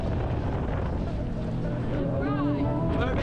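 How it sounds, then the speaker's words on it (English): Small aluminium tinny motorboat driving across open water off an island camp in Western Australia, a steady loud outboard drone mixed with wind buffeting and water rush, with voices talking over it. "80 k's of driving in the tinny."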